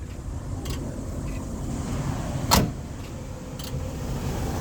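A steady electric buzz from a fuel lift pump on a truck's Cummins ISX engine drones continuously beside an idling truck, with a brief clunk partway through.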